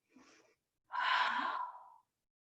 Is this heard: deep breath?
yes